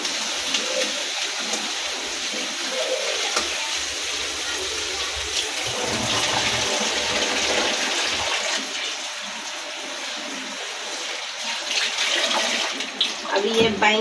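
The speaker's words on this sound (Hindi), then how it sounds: "तो नमक से बैंगन को थोड़ा धो लेंगे, काला काला नमक, काला पानी निकल देगा सब बैंगन का," Eggplants are washed by hand in salted water, giving splashing, gushing and sloshing water that runs steadily and fairly loud, with brief louder swishes near the end.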